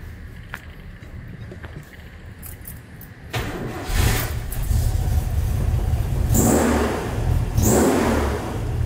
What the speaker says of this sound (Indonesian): Karburatornya Weber, dan mesinnya siem banget ya, enak buat digas. Kita coba aja hidupin yuk.